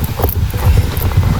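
Horse hooves clip-clopping in the video game Star Stable Online, a loud close rhythmic series of soft thuds over a low background.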